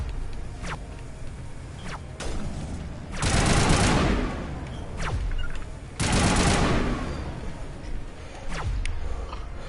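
Sniper rifles fire in a video game, with repeated sharp shots and two longer, louder booming bursts with echoing tails, spread across a busy game mix.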